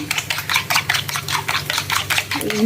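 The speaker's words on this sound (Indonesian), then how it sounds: "Dan ini akan saya masukkan terlebih dahulu telur yang sudah dikocok ini" Beaten eggs, about two, being stirred into a pan with mushrooms, giving a steady run of scraping, clinking utensil strokes against the pan, close and fairly loud, with no talking.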